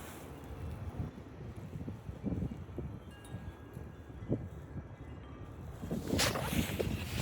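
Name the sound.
strong wind gusts outdoors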